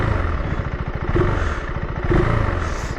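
A KTM 390 Adventure R motorcycle engine idles with a throbbing beat, rising in two brief revs, close and fairly loud.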